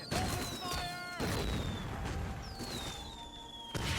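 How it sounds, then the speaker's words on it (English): Mortar cannon fire in the Medal of Honor Frontline war video game: steady loud battlefield rumble with whistling descending tones and bursts, one strong onset near the start and another at the end. "that's a mortar cannon"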